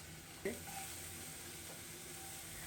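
Omelet eggs frying in a pan, a soft, steady sizzle throughout with a brief clink of a utensil near the start, faint and close.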